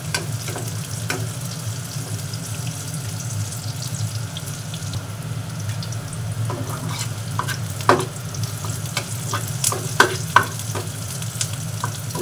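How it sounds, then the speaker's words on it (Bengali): Onions frying in oil in a pan while being stirred, a steady close sizzle throughout with intermittent scraping and clinks of the spoon against the pan, no talking. "এই পেঁয়াজগুলো প্রায় অল্প অল্প ভেজে নিয়েছি।"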